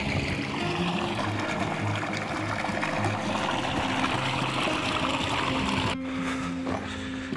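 Water trickles and flows steadily through small irrigation channels with little lids in the desert oasis village of Tulor, a continuous close babble with a brief shift near the end.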